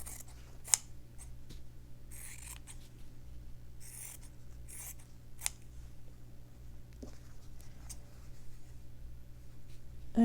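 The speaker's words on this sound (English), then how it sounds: "So I'll just cut all these pieces into little strips." Scissors cutting fabric pieces into strips: quiet, sparse snips and rustles of the blades and cloth in a still room, with no talking.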